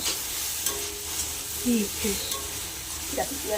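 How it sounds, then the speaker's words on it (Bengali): Okra coated in turmeric is stirred in a pan, a soft continuous sizzle with the scrape and clack of a spoon against the pan at irregular moments. "একটু নেড়ে চেড়ে করতে হবে"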